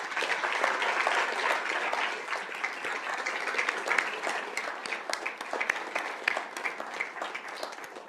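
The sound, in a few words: applause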